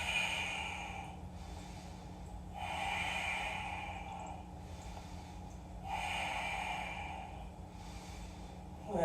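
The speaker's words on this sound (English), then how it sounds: "Deep breath." During a yoga flow, slow deep breaths are drawn in and released through the nose in long, even cycles. Three or so breaths sound close and clear, with no talking.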